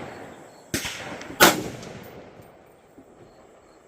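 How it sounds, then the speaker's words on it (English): Two sharp rifle shots from 7.62x39 ammunition crack outdoors less than a second apart, each followed by a short fading echo, then quiet. "watch what happens with the next shot"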